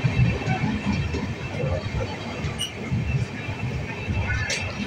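Sairang Express running at speed just after leaving Berhampore station, a steady rumbling roar of wheels and carriages with faint rattles throughout, heard from on board.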